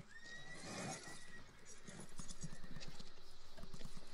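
A horse whinnies loudly near the start, followed by steady hoof clops and some movement noise, as horses pulling a wagon struggle through mud.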